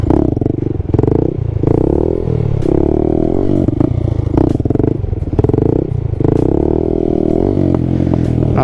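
A Honda Grom motorcycle engine throbs loudly and close, its exhaust pulsing and rising in repeated revs with some rattling clatter.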